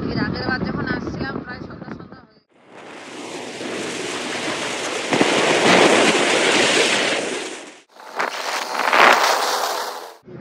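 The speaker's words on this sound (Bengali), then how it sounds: "আরে ট্রেন যাচ্ছে বোকা" A train rushes past close by on a trip to Lataguri, a loud sustained roar and clatter that swells and then cuts off, with people talking just before it arrives.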